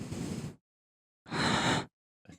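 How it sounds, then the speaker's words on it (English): Heavy breathing straight into a microphone comes through as two loud, breathy gusts with a silent gap between them, then a short softer puff, close and harsh with no talking. "We talked about the noises, the breathing in the mic."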